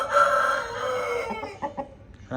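A one-year-old rooster weighing about 3.5 kg crows once nearby, a long drawn-out call, followed by a few short clucks.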